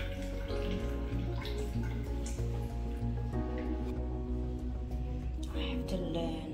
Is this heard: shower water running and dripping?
yes